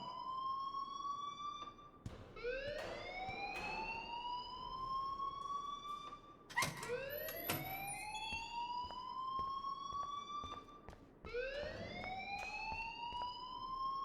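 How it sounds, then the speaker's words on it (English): A fire alarm in the video game Life Is Strange wails in repeated rising electronic sweeps, a steady siren-like tone that cycles several times, clear and without speech. "please turn off that alarm since that's your job"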